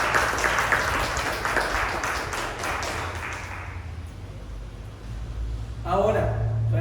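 Church congregation applauding during a Spanish-language sermon, a dense wash of many hands clapping that fades out over several seconds, with a voice starting to speak near the end.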